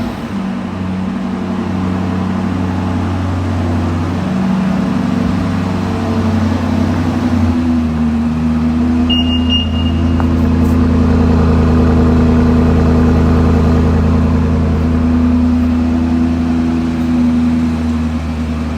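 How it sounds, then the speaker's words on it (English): A 2021 BMW Alpina XB7 V8 idles steadily after a remote start, a low, even engine hum close by with a brief high beep partway through and no talk. "And the engine starts for you like that."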